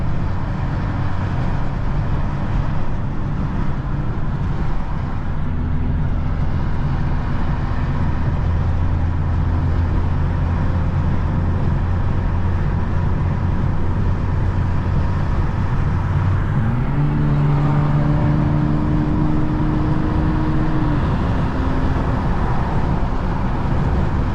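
A cold BMW 435i tuned to about 500 horsepower drives at a steady low engine drone inside the cabin, with a constant hum that rises in pitch near the end as the revs climb.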